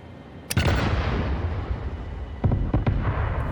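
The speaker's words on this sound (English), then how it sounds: "Cluster bombs are the best." Cluster bomb blasts in the video game Satisfactory, set off to clear land: one loud booming detonation opens into a long rumbling roar, followed by a second pair of sharp explosive cracks with no talk.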